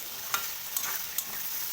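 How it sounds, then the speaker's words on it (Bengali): Potatoes and brinjal fry in a pan for a Bengali hilsa curry, a steady hissing sizzle broken by three sharp scraping stirs at roughly even intervals, close and clear with no talk. "দেখো আমার আলু আর বেগুনটা প্রায় ভাজা হয়ে গেছে"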